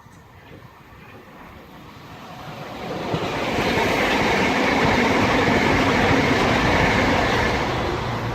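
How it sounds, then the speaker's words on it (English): A Southeastern Class 395 high-speed electric train, unit 395016, approaches and passes at Newington on the Chatham Main Line, its roar swelling from faint to a loud, sustained rush as it goes by. "There is 395016 with 1 Foxtrot 44, the 1648 Southeastern high-speed service from St Pancras International to Faversham."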